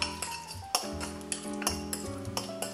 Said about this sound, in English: I'm just going to add in about 2 teaspoons of the apple cider vinegar and mix that together.